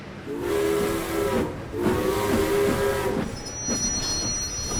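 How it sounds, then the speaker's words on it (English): Steam engines from the Thomas & Friends cartoon toot their whistles in three long, loud, sustained blasts with brief gaps between, a hissing steam wash behind them and no voices. "The three engines tooted and hooted with happiness."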